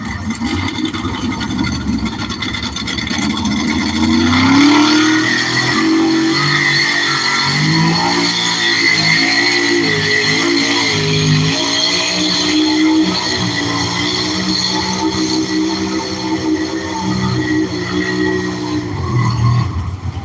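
A 1970 Chevrolet test puller roars loudly and continuously, its engine pitch climbing and holding through a long pull before dropping off near the end.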